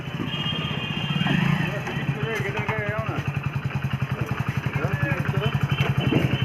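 Motorcycles being unloaded on a ride to Digha, one engine idling close by with a steady, rapid putter throughout, mixed with background voices and occasional clatter.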